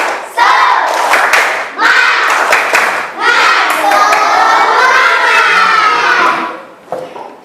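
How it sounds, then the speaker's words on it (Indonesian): A primary school class performs the rhythmic tepuk semangat spirit clap, loud close patterned bursts of clapping mixed with children chanting and shouting together, ending with a few scattered claps. "Tepuk tangan semangat"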